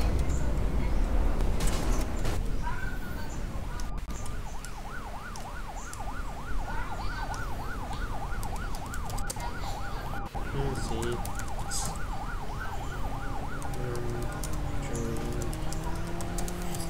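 A Ford ambulance siren wails in a steady, repeating up-and-down cycle for most of the stretch, loud and near over traffic and street noise.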